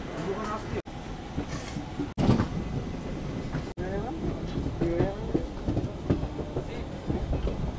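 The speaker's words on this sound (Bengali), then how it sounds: "নির্ধারিত সময়ে আমাদের ট্রেন কিন্তু ছেড়ে দিল কাঞ্চনজঙ্ঘা এক্সপ্রেস" The 13173 Kanchanjungha Express, made up of old ICF coaches, pulls out of Kolkata with a rolling rumble and rhythmic clatter of wheels, while voices chatter faintly inside the carriage.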